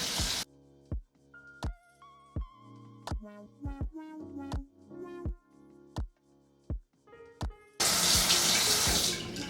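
Tap water running into a bathroom sink while being warmed for face washing; sharp clinks and knocks come first, then a loud, steady rush of flowing water near the end.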